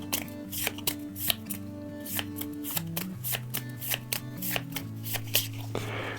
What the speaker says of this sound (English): So we'll shuffle those into the deck.